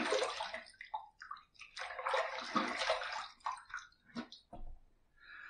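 A shaving brush is rinsed under running water, close splashing and gushing in uneven bursts with brief pauses and drips.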